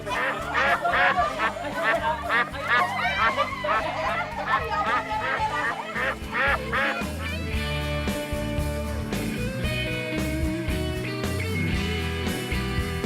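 Ducks in a duck pen quack and honk in a dense, overlapping chorus, loud and close, with busy chatter from the flock and muffled human voices mixed in.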